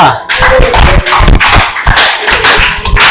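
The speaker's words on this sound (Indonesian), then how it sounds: "Kita kasih aplaus dulu untuk kelompok 2" A classroom of students applauding a presenting group, loud close-up clapping in an uneven, busy patter for a few seconds, with some chatter mixed in.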